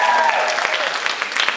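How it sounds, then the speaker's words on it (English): An audience at a public event breaks into loud, dense applause with cheering, a steady wash of clapping that fills the whole moment. "I think that deserves a cheer."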